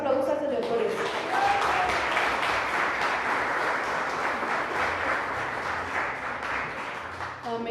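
Church congregation at a Spanish-language Christian service applauds steadily throughout, a sustained crowd of clapping with some voices and cheers mixed in.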